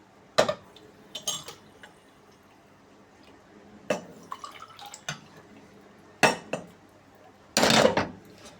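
Milk is poured into cups, followed by several separate bursts of clinking as spoons strike the cups. The sharp, close sounds are spaced apart by quiet gaps, with a longer rattling stir near the end.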